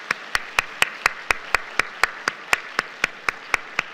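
A church congregation at a Friday prayer service claps in steady, evenly spaced unison beats to encourage the teachers, about fourteen sharp claps in four seconds over a soft hum of room noise.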